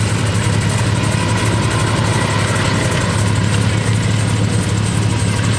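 A Polaris Scrambler 500 four-wheel-drive ATV engine roars loud and continuous as it pulls away at an ice racing event, holding a steady, dense drone.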